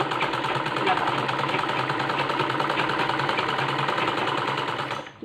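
A sewing machine stitches a sari fall with long stitches, running in a fast even mechanical rattle, close and loud, before slowing and stopping near the end.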